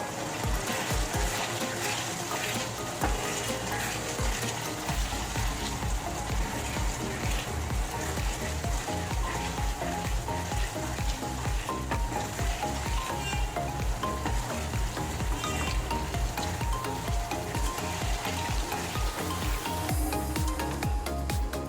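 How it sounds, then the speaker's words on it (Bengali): Chicken manchurian gravy simmers and bubbles with a constant crackling sizzle while an arrowroot slurry is stirred in, with steady close scraping and bubbling throughout. "এবার দেবো গুলে রাখা, এখানে অ্যারারুট রেখেছি, দেবো একটু একটু করে দেবো আর নাড়বো"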